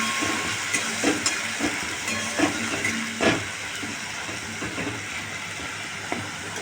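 Onion paste sizzling and frying in hot oil in a home kitchen while chicken mughlai is cooked, a steady close hiss with occasional soft pops and spatters throughout.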